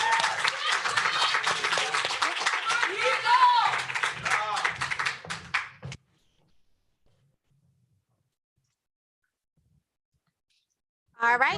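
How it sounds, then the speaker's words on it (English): Applause for student government election candidates at a debate, dense clapping with a few whoops from an audience for about six seconds, then silence before a voice starts speaking. "Can we give them another round of applause while they make their way up?"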